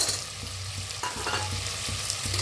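Peanuts roasting in a hot pan, with a steady crackling sizzle and occasional soft scrapes and stirs, close and continuous with no talking.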